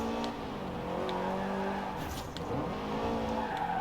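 A car in Forza Horizon drifts, its tires squealing in a steady skid over a continuous engine drone, loud and sustained throughout.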